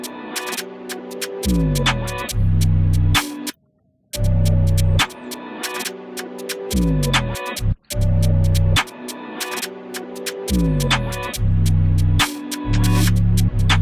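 Loud synth bass notes raised an octave, repeating in punchy phrases with sliding pitch drops between hits and a couple of short silent breaks, with no voices.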